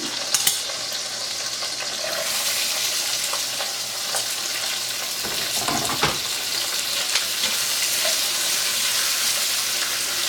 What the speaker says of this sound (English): We're going to throw some onions in there. Kind of a rough chop.